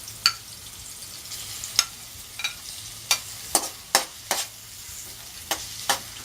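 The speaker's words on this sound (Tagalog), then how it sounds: "after sauteing for about 2 to 3 minutes, add the tomato" Tomato sautéing in a pan with onion and garlic: a soft steady sizzle broken by several sharp clicks and scrapes of a spoon stirring against the pan.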